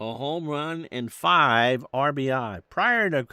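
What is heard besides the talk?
None of the usual background noises is heard.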